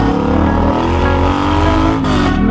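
Motorcycle fitted with loud aftermarket exhaust pipes, revving hard close by: a dense, rumbling roar that holds steady, then lifts in a short rev near the end, with no talking.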